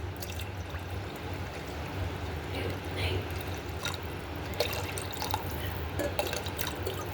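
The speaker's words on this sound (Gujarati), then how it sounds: "અને હવે હું પાણી એડ કરીશ." Water poured into a pot of samo (barnyard millet) khichdi, faint trickling and dripping over a soft background hiss, with a few small clinks.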